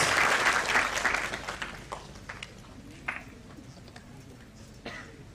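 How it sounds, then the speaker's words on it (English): Students in an auditorium at a college orientation event applaud, a loud burst at first that quickly fades into scattered, isolated claps. "Have a round of applause."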